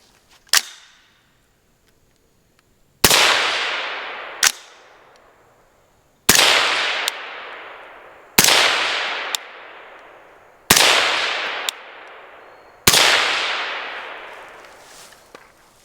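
Suppressed 5.56 rifle fired through the second suppressor of a comparison, heard from the side: one shot, a pause, then a steady string of sharp cracks, each with a long decaying echo and faint ticks between, loud and close.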